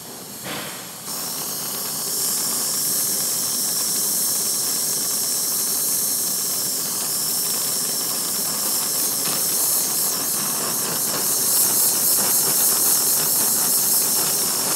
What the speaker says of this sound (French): Alors, le chalumeau. Bon, allumer le chalumeau.